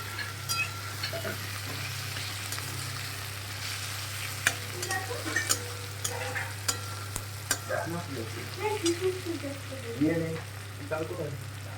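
Crushed garlic and onion frying in a pan, a steady close sizzle with scattered scraping stirs and light clicks of a spoon throughout, with no talk.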